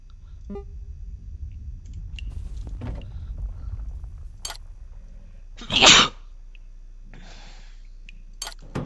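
A single sharp sneeze bursts out mid-clip in a quiet indoor setting while playing the survival game Abiotic Factor, loud and brief against faint background sounds and small clicks, with no talking.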